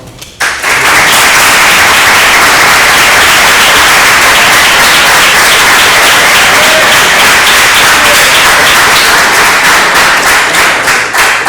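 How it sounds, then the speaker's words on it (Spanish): Loud, sustained applause from an audience at a Spanish-language academic event on economic and social value from historical heritage, honouring the day's organiser; dense clapping fills the whole stretch without pause. "os pediría un gran aplauso por el artífice de esta jornada"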